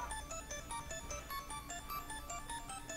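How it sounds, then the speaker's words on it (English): A mobile phone ringtone plays a repeating pattern of bright electronic melodic notes, steady and moderately loud, with no voices. "My phone's ringing."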